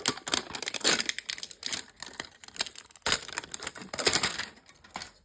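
Pokémon card packs being torn open and unwrapped from a mini tin, with close, busy foil crinkling and crumpling in several bursts of rustling, with no talk.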